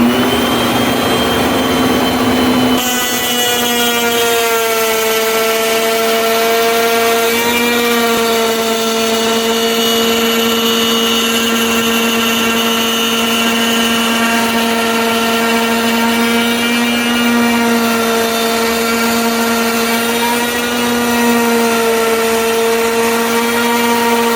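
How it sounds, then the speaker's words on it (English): A JessEm Mast-R-Lift II router table spins up and cuts a slot through wood, giving a loud, sustained high whine with a steady pitch that runs unbroken from start to finish, with no voices over it. "take our material and pass it through so that we are making our slot right through the wood"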